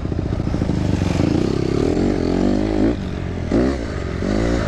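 Suzuki DRZ dirt bike ridden off-road and jumping, its single-cylinder engine roaring steadily and close, revs dipping and surging briefly as the bike lands and takes off again.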